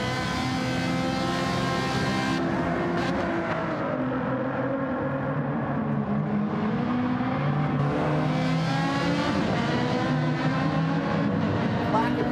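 A race car engine drones in a racing video game, a continuous loud harmonic whine that climbs and dips as the throttle is worked, with a commentator talking over it.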